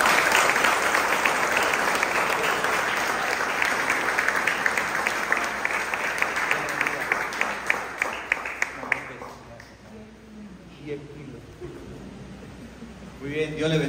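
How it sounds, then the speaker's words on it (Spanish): A church congregation at Sunday Mass applauds for Ethan after a blessing, a dense, sustained clapping that fades out after about nine seconds into quieter room sound and scattered voices. "Un aplauso para Ethan."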